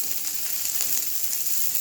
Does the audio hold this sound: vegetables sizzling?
yes